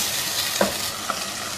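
Boneless meat frying in a pot with chopped garlic, a steady close sizzle with a few soft stirring scrapes, no voices.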